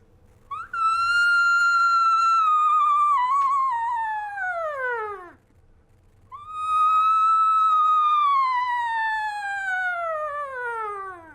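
A human voice imitates an elk cow call, twice: loud, clear, nasal mews that slide steadily downward in pitch, separated by a short pause.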